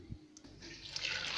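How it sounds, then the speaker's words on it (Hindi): Tap water runs into a pot of halved sweet potatoes for boiling, a soft steady pour that thickens toward the end after a faint clink at the start, quiet and close. "इसमें अब हम पानी डाल देंगे।"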